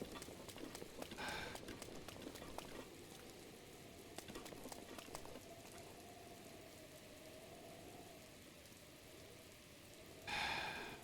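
Steady rain patters within the Zelda: Breath of the Wild game world, a soft continuous hiss with faint drop ticks and occasional louder bursts, heard alone without talk.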